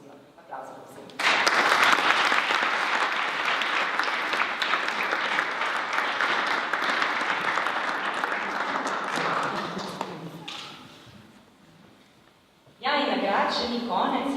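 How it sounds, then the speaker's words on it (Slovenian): Audience applause at a university innovation award ceremony, a loud sustained burst that fades after about ten seconds, then swells again briefly near the end. "Aplavz, prosim."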